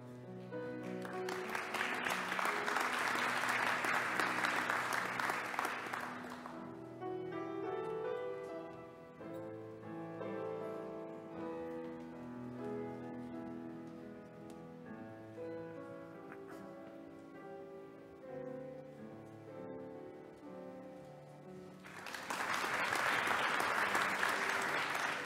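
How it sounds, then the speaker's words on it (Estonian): Applause at a university's anniversary academic ceremony in Tallinn, a full audience clapping loudly for several seconds, then falling away under sustained music, before clapping swells again at the end. "Ja teeme ühe aplausiga doktorikraadi kaitsnutele, kelle ei olnud võimalik promoveerimisel täna osaleda, Priit Järv ja Gert"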